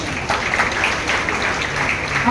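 Audience at a school-type event in Darbhanga gives steady clapping throughout a short stretch, moderately loud and close, with no pause.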